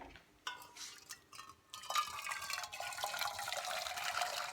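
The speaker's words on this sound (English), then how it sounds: "pour it in a pot half full" Boiling water poured from a kettle into a cooking pot until it is half full, a steady close splashing and gurgling stream that swells after a brief start and keeps running to the end.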